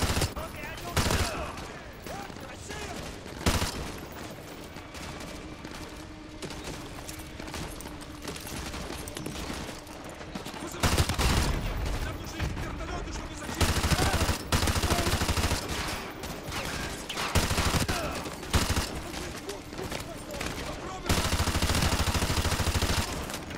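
Heavy bursts of automatic and single gunfire in Call of Duty Modern Warfare 2 Remastered, loud and sustained in waves with brief lulls, mixed with game effects and occasional voices talking over the action.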